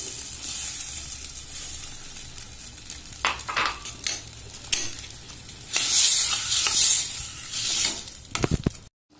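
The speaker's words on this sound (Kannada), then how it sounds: "ಚೆನ್ನಾಗಿ ಕುದೀತಾ ಇದೆ." Creamy white paneer gravy with maida, green chillies and salt bubbling and sizzling in a pan, close and steady, with bursts of stirring and utensil clinks scraping against the pan.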